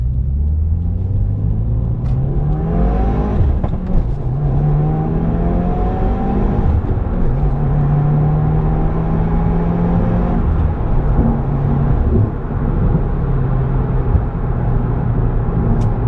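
A turbocharged 2018 Subaru WRX Limited accelerates hard in first gear, heard from inside, its engine note climbing steadily in pitch through a long rising pull with a deep, continuous rumble and no talk.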